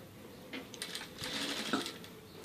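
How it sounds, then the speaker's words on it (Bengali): A sewing machine stitches along the edge of a pleat on a child's school frock, a steady low running whir rising into a busier patch of stitching at moderate, close-range volume with no talk. "এই যে হোল প্লেটের কিনার দিয়ে একটা সেলাই দিবেন"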